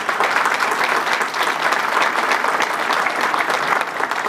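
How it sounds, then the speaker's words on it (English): A crowd at an airport open house applauds loudly and continuously, a dense, even wash of clapping heard close, with no speech over it. "let's hear a round of applause"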